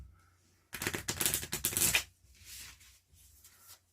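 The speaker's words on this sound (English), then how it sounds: "me shuffle the monster cards just to make sure" A deck of monster cards from the Horrified board game is shuffled in a quick burst of papery riffling and snapping that lasts about a second, followed by softer, fainter card handling.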